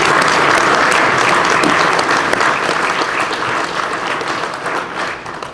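A crowd applauds an address by Mayor Dave Wood at the 2025 State of the Princess City. The dense clapping runs loud and steady for several seconds, then eases off slightly toward the end.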